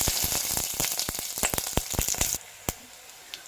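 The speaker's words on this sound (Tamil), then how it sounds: "இப்போ நான் ஒரு 3 பச்சை மிளகாய் எடுத்துருக்கேன், அதையும் ஆட் பண்ணிக்கிறேன்." Green chillies sizzle in a hot oil tempering for tomato rice, a dense, crackling hiss with sharp pops that suddenly drops away, leaving a few isolated crackles near the end.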